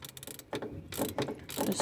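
Ratchet wrench clicking as it loosens the belt tensioner on a Honda CR-V, a few short bursts of close mechanical clicks with brief gaps between them and no talking.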